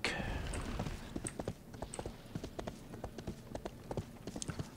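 Horse hooves clip-clop in the online game RIFT, a steady rhythmic patter of hoofbeats at a quick pace, fairly quiet and alone, after a brief opening swish.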